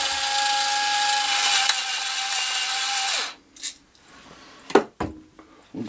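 A pepper mill grinds pepper over a small salad with quail fried eggs, making a steady, close grinding whir for about three seconds, followed by a few quiet clicks and taps.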